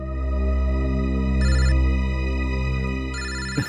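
A telephone ringtone plays loudly and continuously, a steady electronic melody with bright tonal bursts repeating, in an indoor scene from a CID crime drama, with no talking.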